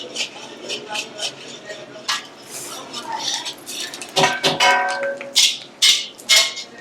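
Masala being tipped and stirred into a large pot of Mangalore-style cucumber sambar for fifty people, with loud metallic clanks and scrapes of a ladle against the vessel coming in irregular bursts over a low bubbling hiss.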